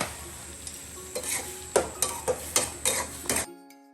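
A spoon scrapes and clinks against a pot of thin lentil dal and curry on a home stove over a soft steady sizzle, with six or seven quick stirring strokes in a row before stopping abruptly.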